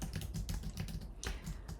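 Rapid clicking of computer keyboard keys, a dense steady stream of close keystrokes with no voices.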